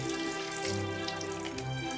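Tap water runs into a sink in a steady close stream with a faint dripping edge, with no talk over it.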